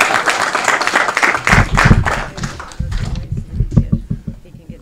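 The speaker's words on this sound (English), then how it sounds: "Another round of applause." Applause at a city council commendation for the 2024 Far West Suburbs Teacher of the Year, with dense clapping rising and then thinning over a few seconds, mixed with low rumbling noise and some background chatter.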